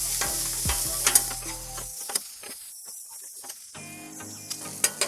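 Big Mac beef sears on a hot griddle and gets stirred, a steady sizzle broken by scraping and clacking spatula strokes, dropping to a quieter hiss midway before the stirring picks up again.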